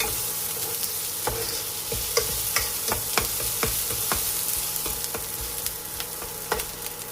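Onion and ginger sauté in a pan for a village-style drumstick-leaf curry, a steady close sizzle broken by repeated sharp scrapes and taps of a spoon stirring, with no talk.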